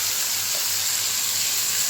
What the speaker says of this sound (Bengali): তো মশলাটা একটু কষিয়ে নেব।